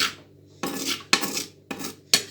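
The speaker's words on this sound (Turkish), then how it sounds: "Eriyene kadar böyle mikser gibi karıştırıyoruz." A spoon stirs a mixture in a pot on the stove, giving loud, close metallic scraping strokes, about five in a quick, uneven rhythm, with no talking.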